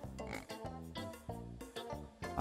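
Small cartoon pigs oinking in the VR bowling game PePiBo Peregrino Pinata Bowling, a rapid string of short squealing grunts repeating in quick succession, fairly faint.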